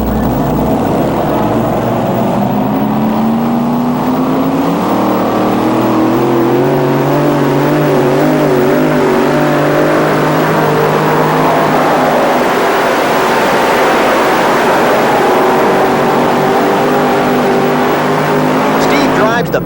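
A modified tractor-pull vehicle with 558 cubic inch Arius engines roars continuously at an NTPA pull in Bowling Green, its loud engine note rising and shifting in pitch through the whole run while a commentator talks over it.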